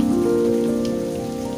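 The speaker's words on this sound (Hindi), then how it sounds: "मैं आपको वो दिखाता हूं कि जहां मैं खड़े होकर वीडियो बना रहा हूं वहां भी बारिश हो रही है।" Rain pours steadily at the recording spot, a dense continuous patter close by with no talking.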